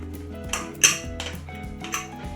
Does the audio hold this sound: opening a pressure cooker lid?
yes